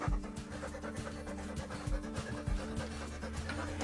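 A Samoyed and border collie cross dog pants steadily and rhythmically close by, over a low, constant background hum.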